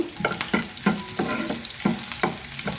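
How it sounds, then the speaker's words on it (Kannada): Crushed garlic and green chillies fry in a hot oil tempering, with a steady sizzle broken by several rhythmic stirring scrapes of a spoon against the pan, close and moderately loud. "ಸಣ್ಣದಾಗಿ ಜಜ್ಜಿರೋ ಬೆಳ್ಳುಳ್ಳಿನ ಸೇರಿಸ್ತಾ ಇದ್ದೀನಿ. ಹಾಗೆಯೇ ಹಸಿಮೆಣಸಿನ್ಕಾಯಿ"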